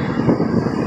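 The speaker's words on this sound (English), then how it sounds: "Oh, there goes a plane." An airplane passes overhead with a steady, loud engine drone, broad and continuous with no other sounds over it.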